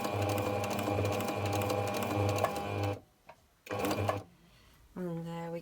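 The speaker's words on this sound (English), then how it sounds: "I'm now going to sew around the edge of this piece here" A sewing machine stitches around the edge of a piece of old sweater fabric, a close, rapid whirring run that stops, restarts briefly, then pauses, with a voice speaking at the end.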